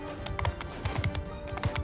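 Horse hooves clip-clop at a steady run in Mount & Blade II: Bannerlord, repeated close thuds under game ambience and battle noise.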